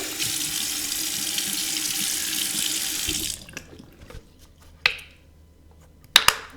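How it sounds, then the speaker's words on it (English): Steady running water from a tap splashes for about three seconds as someone washes their face, then stops, followed by a few quiet drips and two short splashes. "I wash my face really good to remove all the dirt"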